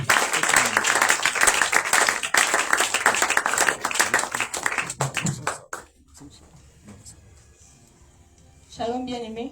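An audience applauds and cheers at the evening opening of a prophetic conference for the Shavuot feast, a loud dense burst of clapping that fades out near the middle, followed by quieter sounds and a voice at the end.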